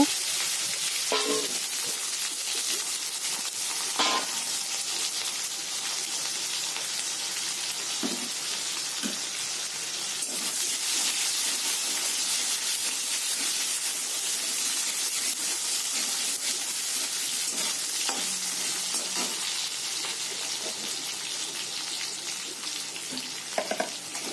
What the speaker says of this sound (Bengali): সামান্য নুন দিয়ে আলুগুলোকে ভেজে নেব একটু